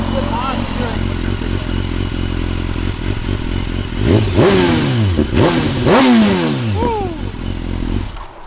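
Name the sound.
modified S1K sport motorcycle engine revving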